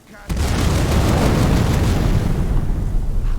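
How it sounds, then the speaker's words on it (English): A video game Staff of Destruction from Colorful Magic unleashes its explosion effect: a sudden loud burst that swells into a sustained, roaring rumble lasting several seconds, close and heavy. "I will say the effect is a little on the loud side, but it is like a staff of destruction."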